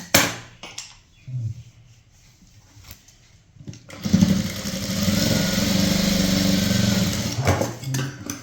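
After a few quiet seconds with faint clicks, a sewing machine runs in one steady whirring burst of several seconds, stitching the shoulder seam of a zip nighty close to the microphone.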